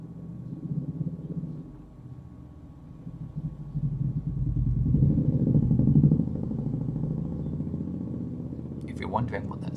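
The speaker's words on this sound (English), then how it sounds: "I think it's a motorbike of some description" A motorbike passes outside with a heavy, tank-like rumble, its low engine drone swelling in the middle and fading away, heard faintly from indoors with a brief clatter near the end.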